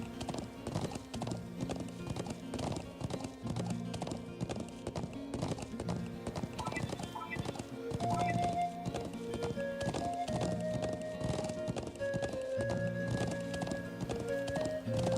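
Horse hooves clip-clop in a steady rhythm through the video game Trails of Cold Steel, with an occasional whinny, set over a continuous backing of game music and close and fairly loud throughout.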